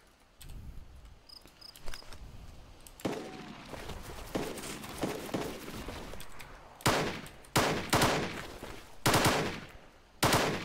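Gunfire in a DayZ squad firefight: a loud volley of sharp shots with echoing tails, followed by several spaced bursts and single cracks against a steady hiss of insect chirping.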